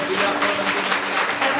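A church congregation clapping hands together in praise, a dense continuous patter of many hands close by, with a voice carrying over it.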